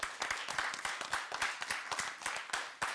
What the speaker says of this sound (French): nous allons applaudir, encourager nos équipes